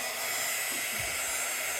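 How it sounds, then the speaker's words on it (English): A heat gun blows steadily on a craft box, a loud continuous whooshing roar of hot air up close, with faint handling bumps under the noise. "I'm gonna dry it with the heat dryer here real quick"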